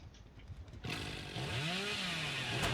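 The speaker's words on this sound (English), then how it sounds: "you let go of the chainsaw, but it keeps going a little bit after" The Hillbilly's chainsaw in Dead by Daylight revs up and keeps roaring, a rising buzzy engine whine that swells and wavers in pitch, loud and steady with no talking.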